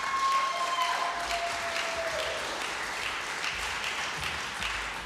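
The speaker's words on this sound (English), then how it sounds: "Can you please give another round of applause for my sister?" Audience applause at a fa'afafine festival, a steady wash of clapping from a crowd that holds evenly for several seconds without voices over it.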